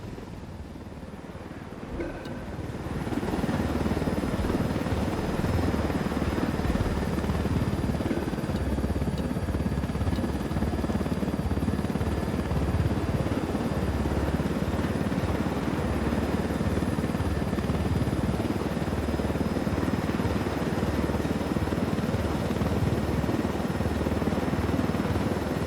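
A helicopter flies in the video game Ghost Recon Wildlands, a loud steady rotor and turbine drone that swells in after a quieter opening and holds constant throughout, with a faint high engine whine.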